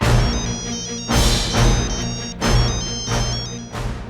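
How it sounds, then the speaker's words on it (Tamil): A telephone rings for an incoming call during a Tamil television serial, a loud, close electronic ringtone repeating in bursts of roughly a second with tonal melody over background music. "என்ன ஷியாம் உனக்கு ஃபோன் வந்திருக்கு"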